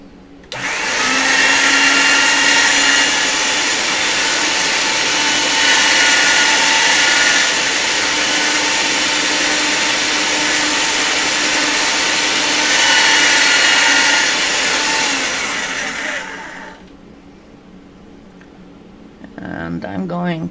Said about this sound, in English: I'm going to get this on the thinnest possible setting on my pasta machine